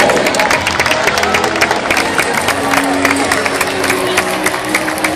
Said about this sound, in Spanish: Un fort aplaudiment per ells, per favor